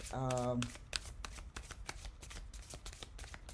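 A deck of cards is riffle-shuffled close up with rapid fluttering clicks, opening with a brief voiced tone.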